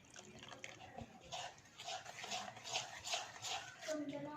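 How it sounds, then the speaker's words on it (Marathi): Water is poured and stirred into jalebi batter in a home kitchen, giving soft splashing and sloshing sounds with light clinks that rise and fall over several seconds, close by and fairly quiet. "आपल्याला लागेल तसं आपण यामध्ये पाणी ॲड करत जाऊयात"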